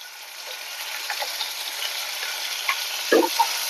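Onion and garlic paste frying in oil in a pan with dried fish gives a steady close sizzle, broken near the end by a short clink and scrape of a utensil stirring.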